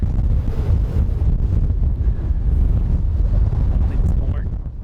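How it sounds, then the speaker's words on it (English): Strong wind buffeting the microphone beside a cliff face at a Utah camp, a continuous loud low rumble and rush that fades slightly at the end. "I can't get out of the wind."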